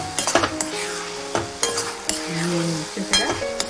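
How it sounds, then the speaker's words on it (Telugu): Pumpkin halwa is stirred in a pan, a spoon scraping and clinking against the metal in irregular strokes over a soft sizzle, close and alone. "ఇలా తిప్పినప్పుడు ఒకే వైపు తిప్పాలండి"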